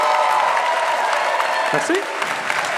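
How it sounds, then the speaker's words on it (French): An audience applauds at a French-language stand-up comedy show, steady dense clapping filling the room throughout, with a brief spoken word from the stage near the end. "On peut applaudir."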